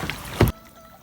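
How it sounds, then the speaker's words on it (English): A single kayak paddle stroke sounds on calm water: one short swish and splash in a brief, close burst that fades into quiet. "We've been paddling for almost an hour, and it's super calm back here."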